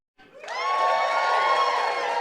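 Comedy club audience at a stand-up show breaking into a big cheer on cue, starting abruptly after a brief hush and holding as a loud, dense wall of shouts and whoops until the end.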